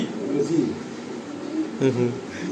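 High-quality Madrasi and Andhra pigeons kept for sale coo in low, soft phrases nearby, partly under a person's voice.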